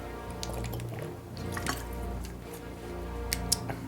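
Water dripping and trickling, probably being poured into a glass or container, with soft wet splashes over a steady low hum and no talking.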